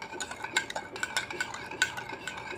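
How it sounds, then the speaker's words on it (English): Spoon stirring sugar, milk and vanilla essence in a mug for a brownie batter, rapid repeated clinks and scrapes against the ceramic in a quick, uneven rhythm, close and fairly loud, without talk. "So what we're gonna do now with the sugar, milk, and vanilla essence, we stir. Keep on stirring."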